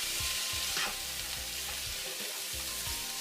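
Frozen corn frying in oil in a hot pan, giving a steady, close sizzle with occasional stirring scrapes and no voices.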